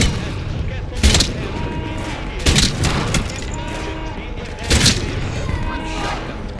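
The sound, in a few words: shotgun blast in video game Atomfall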